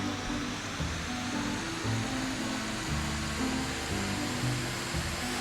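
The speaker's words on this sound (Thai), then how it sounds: "เสียงนี่แบบว่าดีเซลมาเลยนะ" Scania R730 diesel truck engine in GTA 5, a steady low rumbling drone with broad noisy hiss, continuous throughout and fairly close, no talking.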